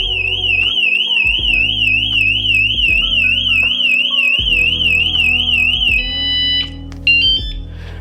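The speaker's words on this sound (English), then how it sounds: "this was an alarm system that arms your alarm" A loud electronic e-bike anti-theft alarm on a Sur-Ron warbles continuously in a rapid high-pitched siren pattern, then switches to a few short beeps near the end.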